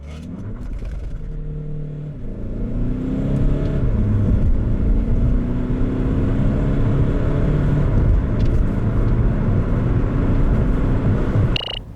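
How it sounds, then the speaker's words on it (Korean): A Kia Stonic 1.6 diesel accelerates hard in sub-zero winter weather, its engine note rising steadily through the gears with a droning, building roar inside the cabin, then cutting off at the end. "여기서 잠시 스토닉의 가속 성능에 대해서도 알아볼까요?"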